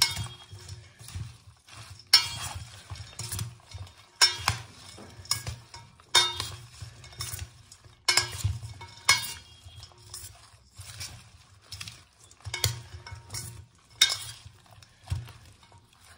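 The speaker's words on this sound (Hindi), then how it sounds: "दूसरा हम यूज़ कर रहे हैं स्वीट अनियन। अब हम इसको कर लेते हैं मिक्स।" Green salad with sweet onion is tossed in a bowl, giving scattered light clinks and soft rustling stirs in irregular bursts, quiet with silent gaps between.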